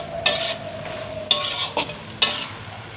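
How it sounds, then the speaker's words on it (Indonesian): Water spinach stir-fried with petai being stirred in a pan, giving a steady sizzle with several distinct scraping stirs of the utensil against the pan, close up, no talk. "Kita aduk-aduk lagi ya."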